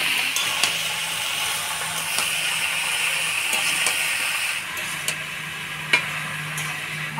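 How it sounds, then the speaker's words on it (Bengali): Bottle gourd with ginger paste, turmeric and salt is stirred in a hot pan, a continuous hissing sizzle with a few sharp spatula clicks near the end. "ভালো করে নাড়াচাড়া করে নিলাম"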